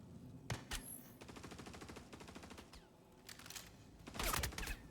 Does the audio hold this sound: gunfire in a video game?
yes